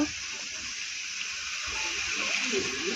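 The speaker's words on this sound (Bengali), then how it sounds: "এখন জল দিব" Water gushes steadily into a cooking pot of pumpkin-leaf curry, a close, continuous hissing pour that keeps going throughout with no break and no talk.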